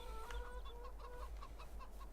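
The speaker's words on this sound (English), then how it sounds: "Chickens are still, well, being chickens." Chickens in the Farming Simulator 22 video game cluck softly in a repeated, slightly uneven pattern over a low steady hum, faint and with no talk.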